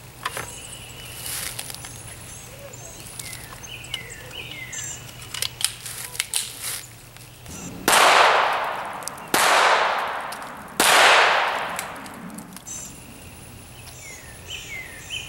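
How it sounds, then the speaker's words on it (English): A .22 rimfire Kimber rifle fires at a steel target: three sharp, loud cracks spaced about a second and a half apart, each with a quick ringing decay, after scattered faint ticks and outdoor ambience. "First, we'll start off with the 22 rimfire, fired from this Kimber in 22."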